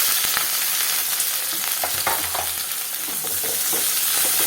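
Onions and curry leaves sauté in hot oil in a pan for vegetable masala rice, a steady close sizzle with occasional stirring scrapes and crackles.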